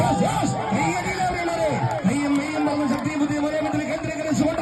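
Crowd at a volleyball semi-final in Kerala cheering and whooping continuously, a dense roar of voices with shouts rising and falling, close and fairly loud.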